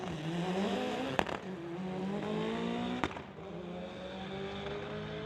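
A 2007 Subaru and a 2006 Subaru launch side by side at a drag strip, with steady engine roar and climbing gear-pitch whine. Two sharp cracks punctuate the run.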